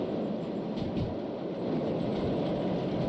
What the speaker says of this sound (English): The sound of all the cars smoothly rolling.